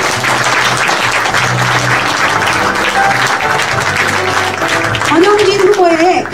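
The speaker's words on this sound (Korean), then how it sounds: "다시 한번 박수를 쳐주시기 부탁드립니다." An audience at a small book concert for a Daegu political author claps together, a dense sustained burst of applause filling the room, with a voice speaking over the clapping near the end.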